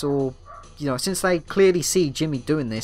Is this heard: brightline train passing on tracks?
no